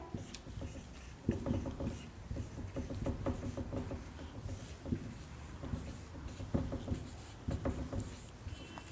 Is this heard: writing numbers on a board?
yes